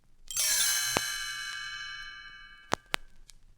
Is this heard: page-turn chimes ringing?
yes